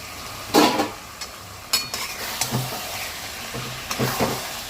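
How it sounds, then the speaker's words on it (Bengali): Chicken stirred and fried in a spice masala in a pan for a Bengali Chicken Maharani, giving bursts of scraping stirring over a steady low sizzle, with no talking. "মাংসটা দিয়ে আমি এবার খুব ভালোভাবে কষাবো।"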